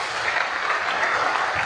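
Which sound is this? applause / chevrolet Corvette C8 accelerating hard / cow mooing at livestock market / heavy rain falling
applause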